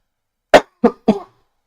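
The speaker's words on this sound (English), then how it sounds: "I'm gonna try and hold back my coughs as much as I can." Three sharp, close coughs in quick succession, the last one breaking into a short rasping follow-up, with silence around them.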